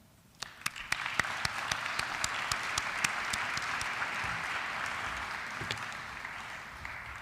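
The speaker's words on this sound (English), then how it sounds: "Perhaps we can have another round of applause for them." An audience at an OAS event gives a sustained round of applause after an onstage exchange, dense steady clapping with a few louder individual claps standing out near the start.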